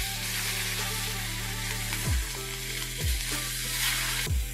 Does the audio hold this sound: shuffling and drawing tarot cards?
no